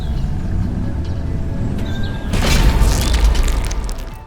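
Explosion effect for the Tesseract weapon from Captain America: The First Avenger, a low steady rumble that swells into a loud, roaring boom burst about midway and keeps thundering to the end.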